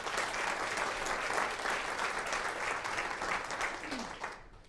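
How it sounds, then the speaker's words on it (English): Room of attendees at a chamber of commerce annual meeting applauding, a full sustained wash of clapping that tapers off toward the end. "I want you to please give them a round of applause as well"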